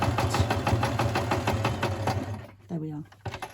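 A sewing machine stitching a homemade tote bag runs in a steady fast rhythmic whir close up for about two and a half seconds, then stops, leaving a short voiced sound and a brief restart of mechanical noise.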